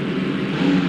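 A monster truck approaching in the BeamNG Drive video game, heard as a steady, loud engine drone with a low rumble that swells slightly toward the end, with no talking.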